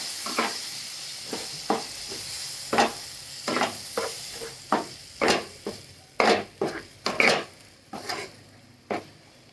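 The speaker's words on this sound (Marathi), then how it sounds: "हलवून घ्यायचं छान असं मस्तपैकी." Green chillies sizzle in a pan while a spoon or spatula stirs them, giving a soft continuous frying hiss broken by a dozen sharp scraping knocks against the metal, close and fairly loud.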